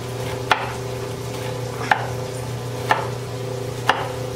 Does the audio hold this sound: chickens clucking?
no